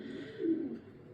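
A single soft, low coo from a sluggish breeder racing pigeon in a loft, faint and close, with a quiet background and no talk.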